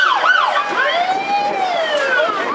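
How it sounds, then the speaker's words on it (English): A fire engine's wailing siren sweeps up and down continuously, steady and fairly loud, with no one talking over it, during a parade. "It's a Type 4 Wildland engine, driven by Jeremy Nesty"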